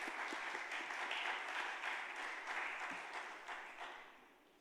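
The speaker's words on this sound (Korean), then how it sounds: "따뜻하게 이 시간 박수로 맞이해 주시면 감사하겠습니다" An audience at a Korean church's Friday worship service claps to welcome a pastor, a warm burst of applause that swells and then gradually tapers off.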